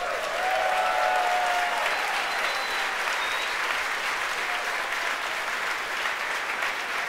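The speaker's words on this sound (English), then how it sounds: "You can hear the applause behind me as we've gotten past maximum dynamic" Applause from SpaceX staff during a Falcon Heavy launch, a continuous, even wash of many hands clapping at a moderate distance, steady from start to end with faint voices beneath.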